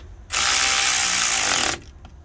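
A hand ratchet snugs up bolts on a 1998 GMC K1500 axle, giving one loud, fast, continuous ratcheting burst of about a second and a half, then quiet shop background.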